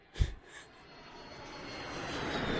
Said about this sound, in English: we have the jets flying over here